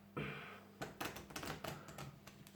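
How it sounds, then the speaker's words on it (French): Playing cards being shuffled by hand, a brief riffle followed by a series of crisp flicking and snapping bursts, close and fairly quiet. "On va prendre une première partie des cartes. On va faire"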